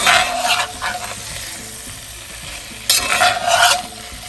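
Potatoes for kielbasa hash being stirred and fried in a pan, with a steady sizzle throughout and louder bursts of scraping stirring at the start and again near the end.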